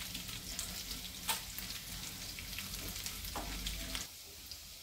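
Garlic with cumin sizzling in hot oil for a tempering, a soft crackling fizz with a few sharper pops and stirring clatters, close but faint, easing off near the end, with no voices.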